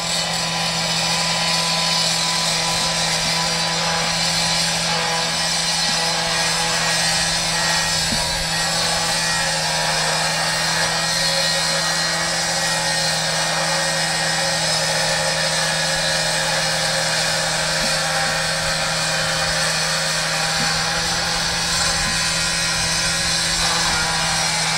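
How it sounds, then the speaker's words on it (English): Cutoff saw grinding through quarter-inch-thick angle iron standing in for hinges on a firefighter ventilation training trailer, a loud, continuous abrasive whine with a steady hum underneath, holding for the whole stretch. "Now they'll take the cutoff saw and go ahead and cut those hinges."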